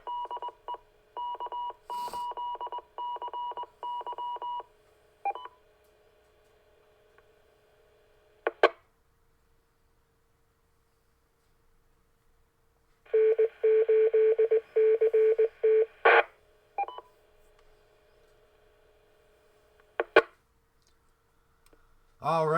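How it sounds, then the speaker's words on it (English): Amateur radio station ID tones play as two bursts of steady beeping tone sequences over a radio channel, separated by silence and punctuated by sharp clicks of keying, with no talking. "that was the station ID"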